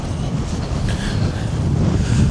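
Strong wind buffeting the microphone on a Scottish Munro hike in the Strathfarrar hills, a continuous loud rumbling roar with no speech.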